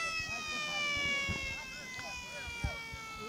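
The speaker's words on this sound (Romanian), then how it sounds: "în tribună se aude și o sirenă care încearcă să-i mobilizeze pe fotbaliștii focșăneni" Siren wailing in the stands at a football match between CSM Focșani and Aerostar Bacău, steady rising and falling tones sounding at moderate distance beneath crowd noise and a commentator talking.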